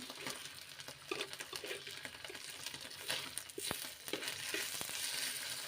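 Dried hidol fish cooks in a pan with a steady, quiet frying sizzle, broken by a few stirring scrapes and crackles.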